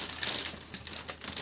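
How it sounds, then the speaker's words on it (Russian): A pet rustling and tearing at crinkly wrapping paper, a continuous close, dry crackle with small bursts of tearing and no voices. "Я так думаю, что к вечеру вся эта бумага будет разодрана"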